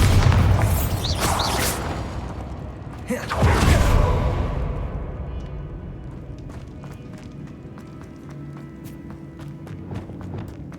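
The Bombarda spell in the Hogwarts Legacy video game bursts with a loud, broad blast, followed by a fading rumble and scattered small clicks and debris patters.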